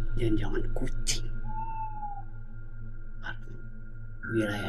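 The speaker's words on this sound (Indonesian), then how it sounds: "Jangan-jangan kucing." A cat meows once, a drawn-out mid-pitched cry heard in a dark scene from an Indonesian horror film, set between bursts of a person's speech over a steady low hum.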